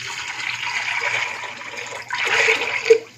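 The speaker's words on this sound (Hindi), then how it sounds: "पानी डाल के प्रेशर कुकर में इसको रख देते हैं" Water gushes into a pressure cooker holding soaked chickpeas, a continuous splashing pour that swells louder in a second burst and ends with a small clink.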